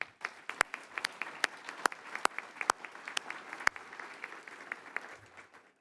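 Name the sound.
audience applause at an awards event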